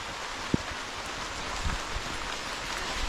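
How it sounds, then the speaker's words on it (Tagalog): Rain falls outdoors as a steady, even hiss of drops that continues throughout, with an occasional soft knock in the background and no talking. "nandito pa rin po tayo at naabutan tayo ng ulan dito"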